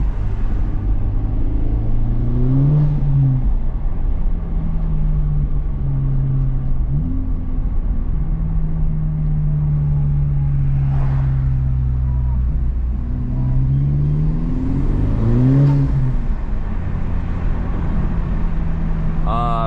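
A Honda Civic Type R (FL5) engine with a resonator delete and open exhaust valve drones and rumbles throughout, rising in pitch several times as it revs, with a deep raspy exhaust tone and faint voices underneath.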